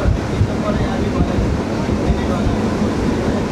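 A suburban train from Sealdah to Diamond Harbour rumbles steadily with wind rushing in through an open window, a constant low roar and buffeting throughout, with a faint voice underneath.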